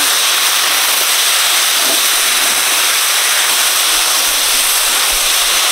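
Water poured into a hot pan of okra and potato curry, producing a loud, continuous, close hiss and sizzle that holds steady throughout.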